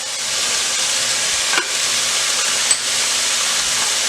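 A vegetable stir fry sizzles steadily in the pan as sauce goes in, a loud continuous hiss and crackle with a couple of faint clinks and no talking.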